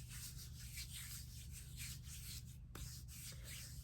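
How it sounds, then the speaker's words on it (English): Pineapple-scented body product rubbed by hand onto bare arms, giving a soft, steady swishing friction that runs continuously and close up, with a brief pause near the end and no talking. "I will just kind of rub this on my arms as well."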